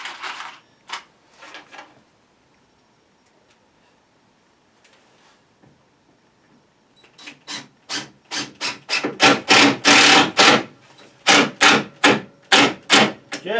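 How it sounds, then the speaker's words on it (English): Screws are driven into a wooden water cooler cabinet, first a few faint scrapes and knocks, then a loud, close run of rhythmic rasping bursts as the screw bites into the wood. "now we'll just put in a couple of screws."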